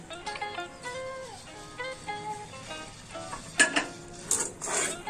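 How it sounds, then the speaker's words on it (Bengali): Semolina and mango paste being stirred in a pan for mango semolina barfi, a spoon scraping and knocking against the metal with soft sizzling underneath, ending in a few louder clanks. "একদম অল্প আছে, আস্তে আস্তে নাড়িয়ে নাড়িয়ে এটাকে একটু শুকিয়ে নেবেন"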